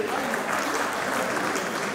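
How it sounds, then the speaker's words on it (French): Wedding guests applaud at a reception, a brief burst of steady, dense clapping with voices mixed in underneath. "Applaudissez pour lui, s'il vous plaît."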